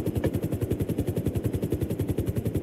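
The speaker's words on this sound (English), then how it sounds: "Okay, I was in this police helicopter." Police helicopter in a video game, its rotor chopping in a steady fast rhythm, loud and close, with no voices over it.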